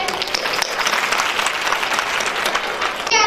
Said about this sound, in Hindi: So clapping for them.